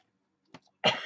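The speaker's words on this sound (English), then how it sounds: "It makes me cough and choke." A single short cough up close, preceded by a faint throat noise, in an otherwise quiet room.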